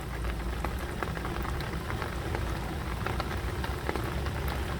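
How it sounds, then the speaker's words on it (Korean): Steady rain pattering onto water beside a small farm hut, with dense continuous drops and splashes at an even level throughout, no voices. "빗소리와 어, 또 이렇게 물에 빗방울이 떨어지는 모습"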